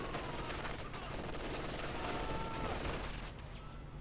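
Dense gunfire in the Company of Heroes 2 video game, with a mounted .50 cal firing suppression, as a steady, continuous rattle of shots with other battle noise mixed in.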